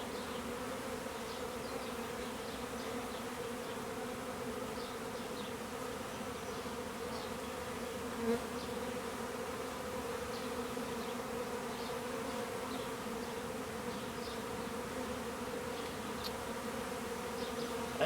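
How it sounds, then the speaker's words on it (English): Angry honey bees buzz thickly around an open hive during a package installation, a steady dense drone that holds close and continuous throughout with no voices. "Angry bees."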